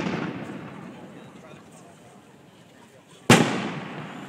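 A fireworks show, with a dull rolling rumble of distant bursts that fades, then a sudden sharp loud bang that echoes and decays.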